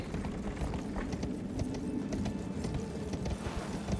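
Torrent, the spectral steed in Elden Ring, galloping at a steady run, a dense rolling clatter of hoofbeats over a rumbling low bed, close and continuous with no talk.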